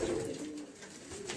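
Pigeons coo softly nearby, a low throaty burbling call over faint background noise.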